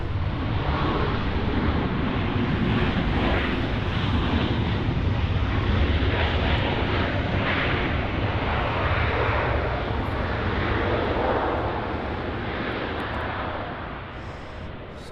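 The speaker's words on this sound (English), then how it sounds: "that one arriving there, we just missed it unfortunately, but that was WestJet Flight 1510 from Calgary" A WestJet airliner arriving at Los Angeles airport roars steadily and loudly throughout, a broad continuous engine rush that eases slightly toward the end, with no talking.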